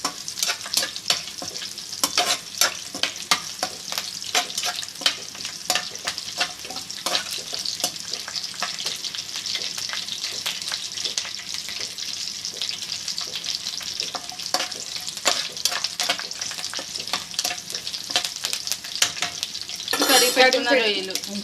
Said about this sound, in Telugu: నూనెలో బాగా వేగిపోవాలి.